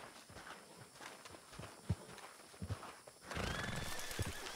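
Horses in Red Dead Redemption 2 clip-clop along and neigh, hoofbeats and whinnies mixing with movement noise before a louder rushing burst near the end.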